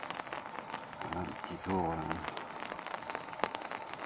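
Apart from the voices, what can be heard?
rain falling while walking at night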